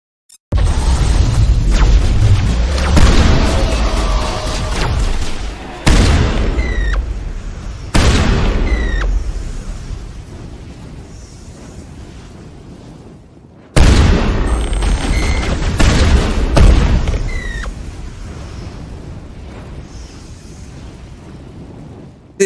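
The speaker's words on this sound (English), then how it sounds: "this is why I like shotguns, because they do so much damage" Shotgun blasts in the Mass Effect video game: a few loud, booming shots with long decaying tails, separated by pauses, dominating the mix.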